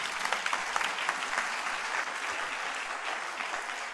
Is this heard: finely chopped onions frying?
no